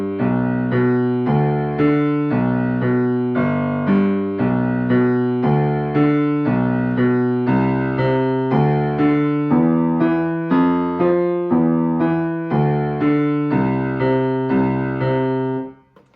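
A piano plays a steady duet accompaniment part for a beginner piece, with even, repeated chordal notes in a continuous rhythm for about sixteen seconds, close and clear, ending with a sudden stop.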